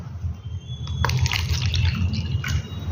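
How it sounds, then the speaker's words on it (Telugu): Drinking water pours into a glass, starting with a faint trickle and then a steady splashing fill that runs close and clear to the end, with low background hum underneath. "ఈ గ్లాస్లో కొన్ని వాటర్ తీసుకుందాం మనం."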